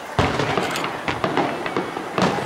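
Fireworks burst in a rapid series of loud cracks and booms, with crackling between the bigger explosions.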